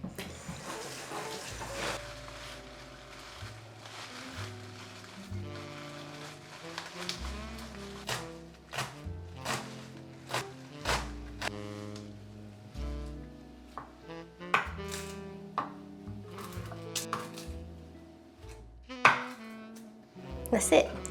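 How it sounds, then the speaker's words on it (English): Rapid knife chops on a cutting board as fresh garden kale is finely shredded for sautéing in butter, a steady run of close, crisp strikes with occasional water sounds from a kitchen. "That's it, chopping up the kale, ready to go and be sauteed in some butter"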